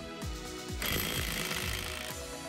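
A cheap battery-powered impact wrench with 350 Nm maximum torque hammers in a fast, loud, continuous rattle while loosening a wheel nut tightened to 310 N, the pitch shifting as the nut breaks free.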